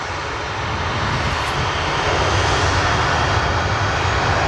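A Boeing 737-800 jet of Alaska Airlines roars past at Portland while planespotters watch, a broad, steady engine rumble that builds slightly and stays loud throughout, with no talking.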